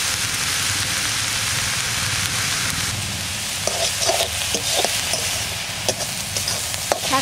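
Mountain greens with chopped green chilli, turmeric and salt frying and being stirred in a pan, a steady close sizzle with scraping stirs and soft clinks in the second half, no talking.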